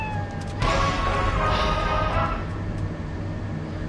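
A cat meows in the Fallout Shelter video game, a short game sound effect heard over steady background music and ambience.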